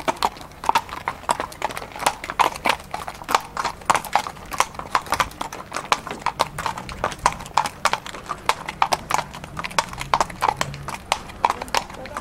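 Horse hooves clip-clop steadily on a snowy mountain road in the Troodos Mountains, a close, even rhythm of sharp hoof strikes running throughout, with faint voices in the background.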